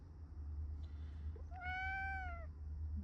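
A sick shelter cat, ill with FIP, gives a single drawn-out plaintive meow close by over a steady low hum, with no voices.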